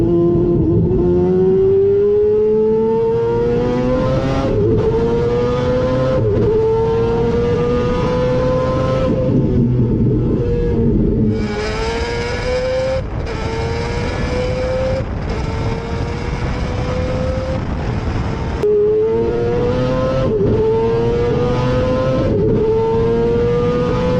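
Naturally aspirated four-rotor engine in a Mazda RX-7 race car, revving hard and loud with rising harmonic pitch sweeps, brief drops between pulls as it accelerates through gears, close and continuous throughout.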